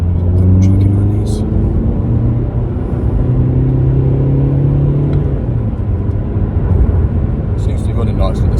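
Stage 1 Volkswagen Golf engine running on a dyno, a loud, steady low rumble and drone with shifting tones, with voices talking over it.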